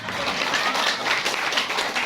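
A gathering of the Simanjuntak clan association at Monaco Park in Sibiru-biru breaks into applause, a dense continuous wash of many hands clapping close by for a couple of seconds.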